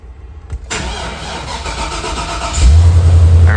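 A 6-liter V8 gasoline truck engine being started with a portable jump starter: a brief crank, then the engine catches with a loud, deep rumble and settles into a steady close idle.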